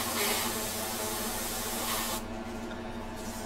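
Steady hissing spray of an airbrush, continuous and close, briefly easing near the end before resuming.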